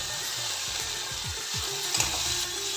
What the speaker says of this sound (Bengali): দিয়ে এটা এক মিনিট মতো তার তেলের উপর নেড়ে নেবো